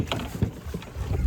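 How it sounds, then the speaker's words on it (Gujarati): A small boat knocks and sloshes against the water in a brief, close burst of low thuds and splashing, with no talk. "હોડી ભટકાઈ ગઈ છે"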